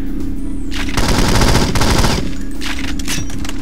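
Loud, dense automatic gunfire in the PC game 007 Nightfire, one sustained rattling burst near the middle of a brief stretch, followed by a few scattered shots.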